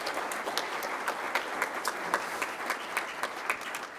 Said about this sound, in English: give this group a round of applause